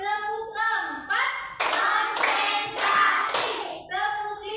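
A classroom group chants in rhythm and claps their hands together in short sharp bursts, several claps in a row between voiced phrases, close and loud.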